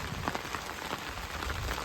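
Steady rain falls on a rural farm where cut bajra (pearl millet) lies in the field, a dense, even hiss of drops pattering on surfaces that continues without pause and with no voices.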